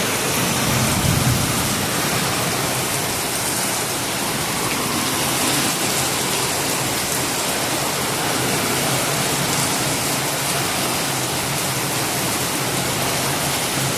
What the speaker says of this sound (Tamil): பயங்கரமான மழை வருது.